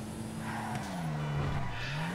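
Car handbrake skid in GTA V on a modded, hard-to-handle tuned car: a sustained tire squeal rising and dipping over a droning engine, loud and close, with no talking.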